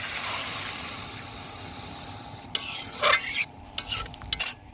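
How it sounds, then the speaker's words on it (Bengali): Potatoes stir-fried with beef curry in a pan: a soft sizzle at first, then several louder scrapes and clanks of the spoon near the end, close, with no talk. "মাংসের সঙ্গে আলুটা আমি কষিয়ে নিলাম"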